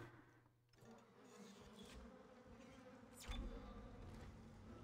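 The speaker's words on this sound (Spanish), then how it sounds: "Entonces siento los mosquitos ahí, tío." Insects buzz and whine through the creepy ambience of the horror game Dead Space, a continuous faint drone close by, swelling slightly partway through over a low rumbling background.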